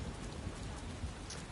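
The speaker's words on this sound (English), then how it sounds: "Running barefoot in the rain." Steady rain pours in Watch Dogs Legion, a dense, even hiss of drops on city surfaces that fills the whole stretch at moderate level with no voices.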